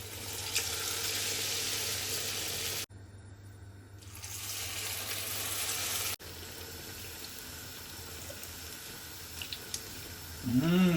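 Onion vada sizzle in hot oil with a steady, hissing crackle that carries through the whole stretch, broken by two short drops and a few brief bubbling bursts near the end.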